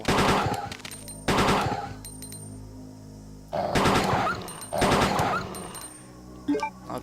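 Burst-fire gun in Resident Evil 2 firing at dogs: four loud, close rapid volleys of shots, each lasting under a second, separated by quieter game ambience, ending with a couple of short impacts.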